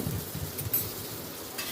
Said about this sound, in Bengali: এবার একটু নাড়াচাড়া করে নিচ্ছি সবগুলো